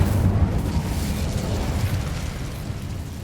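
An Incendio fire spell blast in Hogwarts Legacy, a loud, rumbling burst of flame that roars at the start and fades out over about three seconds, with no voices over it.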